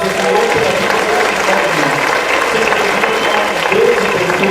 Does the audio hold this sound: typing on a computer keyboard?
no